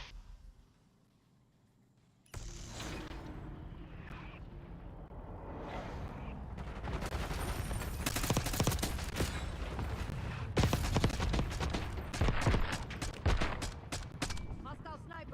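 Rapid, dense gunfire in a shooter video game, with a sniper shot among sharp repeated bursts after a brief quiet start, steady and close throughout to the end.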